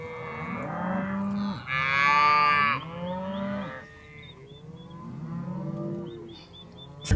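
Cattle moo loudly and repeatedly while cowboys wrangle them, several long, overlapping bellows close by, with no talking.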